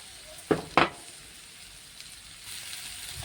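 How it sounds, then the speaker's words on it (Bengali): Malabar spinach seeds frying in a pan with dried fish and potatoes give a low, steady sizzle. Two short, sharp clatters of stirring stand out early on, with no talking. "এটার সাথেও ভালো মতন করে ভাজা ভাজা করে নিতে হবে"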